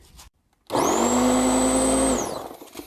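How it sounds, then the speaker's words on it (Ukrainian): A cordless 12-volt hedge trimmer starts and runs for about a second and a half: a steady, loud electric motor whine that then winds down, with quiet moments before it. "Працює. Акумуляторний 12-вольтовий кущеріз."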